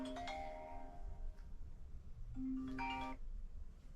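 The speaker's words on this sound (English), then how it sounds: "hold on, my phone." A phone ringtone chimes in two short melodic bursts separated by a pause, fairly faint over a quiet room hum.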